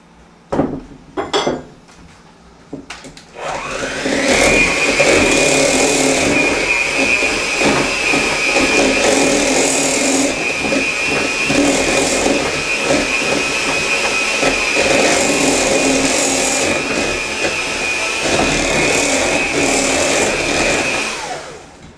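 Eggs and milk are mixed into cream cheese. A few light clicks come first, then a loud, steady whirring hiss runs nearly unbroken through the rest.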